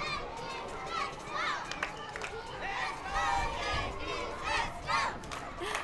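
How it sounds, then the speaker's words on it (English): Children at a Little League parade cheering and chanting in rhythmic bursts, a lively crowd of young voices shouting together amid surrounding chatter, fairly close. "We can hear the kids cheering, "Let's go, Yankees, let's go.""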